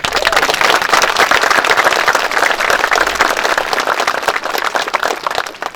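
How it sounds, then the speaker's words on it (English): A large crowd applauding steadily, dense continuous clapping at full volume that tapers slightly near the end. "give him a round of applause"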